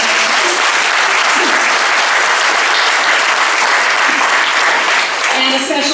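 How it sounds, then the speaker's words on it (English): A forum audience at a Women's Club of Coconut Grove debate gives loud, dense, sustained applause to the co-sponsors for several seconds, with some voices mixed in beneath the clapping. "Let's give them a round of applause."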